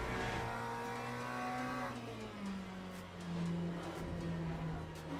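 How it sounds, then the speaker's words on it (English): Racing car engine and tyres in the Le Mans Ultimate sim game, a sustained engine drone shifting in pitch as the car corners, with a faint thin tyre squeal layered underneath; no talk. "It's definitely a little bit of tyre squeal that I haven't noticed before."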